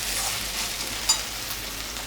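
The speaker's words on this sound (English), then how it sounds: "I have added it with the onions, so it can get sauteed well, these onions, and also meanwhile this capsicum can cook well." Onions and capsicum sautéing in a pan for egg masala, a steady close sizzle with one small clink partway through.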